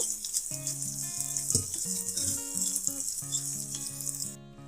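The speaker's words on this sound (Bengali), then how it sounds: "তেলটা এখন গরম হয়ে এসেছে, এখন আমি পেঁয়াজ আর কাঁচামরিচ কুচিগুলো দিয়ে দিলাম। এগুলো হালকা একটু ভেজে নেব।" Chopped onion and green chili fry lightly in hot oil, giving a steady bright sizzle that runs the whole time beneath a tonal musical backing and cuts off abruptly near the end.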